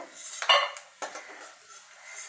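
A few scraping clinks of a metal spoon against a pan as fried peanuts are scooped out, with one sharper scrape followed by quieter rustling; no voices.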